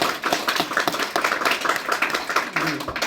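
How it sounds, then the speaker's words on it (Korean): A church congregation at a Sunday worship service claps for the praise team, a steady patter of hands that holds for about three seconds at moderate volume. "찬양부 위해서 한번 격려의 박수 한번 드려볼까요?"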